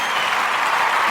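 A crowd applauds in a dense, steady burst of clapping that stays loud and even for the whole short stretch, with no talk over it.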